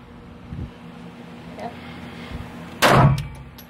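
A single loud gunshot cracks at an outdoor shooting range, standing out sharply after a few quieter handling knocks and thuds.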